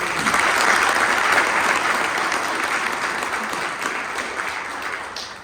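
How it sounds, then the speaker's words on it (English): Audience applause at a club installation ceremony, a loud, dense wash of many hands clapping together that stays full and steady before easing slightly toward the end. "So a round of applause for these two individuals."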